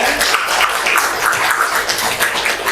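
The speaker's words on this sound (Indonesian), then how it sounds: "kita beri tepuk tangan untuk kelompok 9" A classroom group claps for group 9, a brief burst of dense, even hand-clapping from many people that carries steadily for a few seconds.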